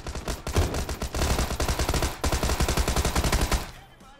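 Loud, steady automatic gunfire in the battle royale game PUBG, a close rhythmic stream of shots with a brief pause before it continues and then cuts off.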